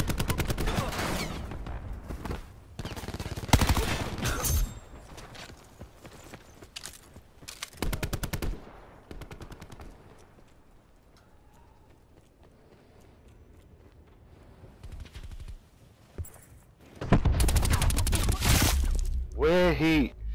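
Several separate loud bursts of rapid gunfire in Call of Duty Black Ops 4, an SMG-style rattle broken by quiet gaps, with a final heavy volley near the end.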